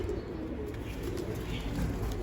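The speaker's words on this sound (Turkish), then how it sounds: "Kuşlarımız da oyun kuşudurlar." Arab breed pigeons coo softly and continuously in a low, throaty murmur that fills the whole stretch, with no one talking.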